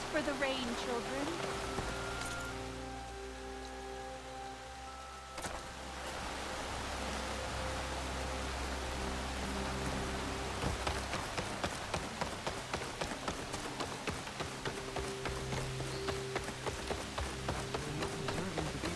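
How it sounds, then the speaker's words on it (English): Rain patters steadily on surfaces in the video game Horizon Forbidden West, a soft constant hiss with scattered drop taps, faint overall and backed by a low ambient hum. "At least dress for the rain"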